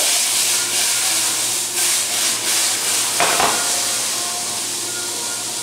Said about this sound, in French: Je fais sauter un petit peu les poivrons